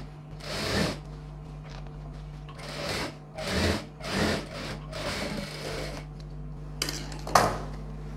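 A sewing machine stitches fabric for a traditional silk pavadai sattai in short repeated bursts, several brief runs separated by pauses over a steady low hum, close and moderately loud.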